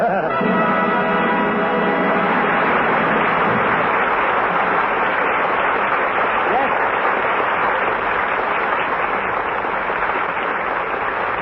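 Studio audience applause at a 1947 Milton Berle radio comedy broadcast, a loud, dense, sustained roar of clapping that runs the whole stretch with no talk over it.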